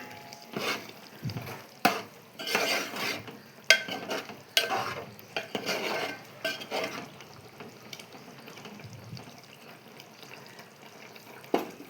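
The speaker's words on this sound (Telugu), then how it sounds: "వేసుకొని ఒకసారి కలుపుకోవాలి" Coconut powder is stirred into a mealmaker tomato curry in a pan, giving intermittent scraping strokes over a soft, continuous sizzle, with no one speaking.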